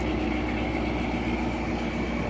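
A Paxton-supercharged 700 hp Dodge Challenger idles, its exhaust putting out a steady, loud, low rumble that stays continuous throughout with no other sounds.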